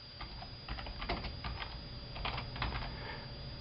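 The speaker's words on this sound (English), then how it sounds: "I'm now going to type "they brought there."" Steady typing on a computer keyboard while entering a short sentence in Notepad, with quick irregular key clicks at a close, even level and no speech.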